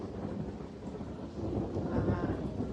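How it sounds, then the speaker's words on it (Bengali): Thunder rumbles steadily over a rural vegetable garden, a low, continuous roll that swells toward the end, with rain hissing underneath and no talking. "মেঘ ডাকছে"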